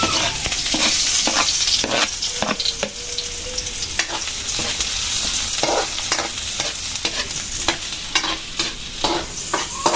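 Ginger and garlic sizzle steadily in a hot pan for an adobong chicken feet dish, a dense loud hiss broken by repeated scraping stirs of a utensil at a brisk irregular rhythm.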